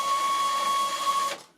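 A Sam4S NR520RB cash register's built-in printer feeds the journal audit roll, giving a steady, close mechanical whir with a high whine that runs continuously for over a second before cutting off.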